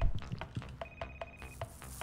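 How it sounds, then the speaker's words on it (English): A video game telephone rings inside a house in a horror game, sounding as a sharp repeating bell tone, close and clear, with a few soft thuds and no talking. "I hear the phone."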